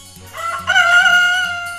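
A rooster crows a single drawn-out cock-a-doodle-doo, loud and close, over a faint repeating musical backing.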